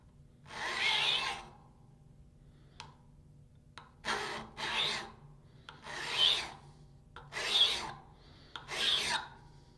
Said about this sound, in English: Now, we're going to perform the file test on the first workpiece. Apply 3 to 5 strokes.